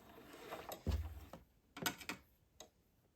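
A sewing machine backstitching at the end of a seam to tack down lace on a diaper shirt, giving a few short quiet bursts of mechanical ticking and stitching with pauses between them, close and soft.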